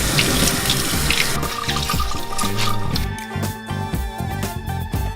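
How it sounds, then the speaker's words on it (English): Cold tap water runs steadily into a sink as cooked Korean glass noodles for japchae are rinsed, a loud, continuous splashing rush with no talk. "Run it under cold water."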